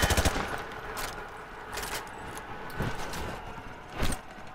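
Gunfire hits light cover in Call of Duty Modern Warfare 2, several sharp shots and short bursts at moderate loudness, spaced irregularly with a louder crack near the end.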